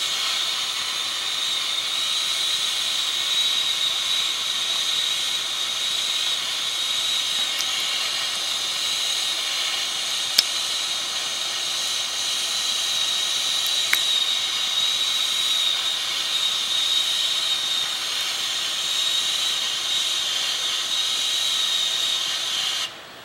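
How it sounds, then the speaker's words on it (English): Steady high whistling hiss from a truck refilling a CO2 tank before dawn, with faint diesel engine rumble beneath, continuous and unchanging for over twenty seconds with a couple of brief clicks. "That was the end of the CO2 loading noise."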